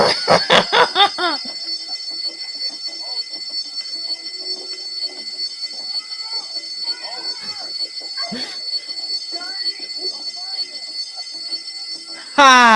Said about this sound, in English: Fire alarm! Thanks. Fire alarm!